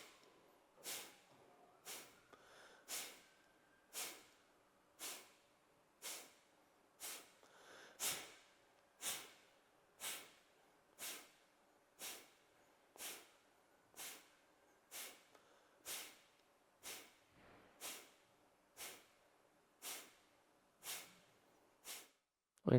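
Rapid, forceful Kapalabhati Pranayama breaths, about twenty sharp nasal exhalations snorted out at a steady, even rhythm, close and clear against a quiet room, with no talking.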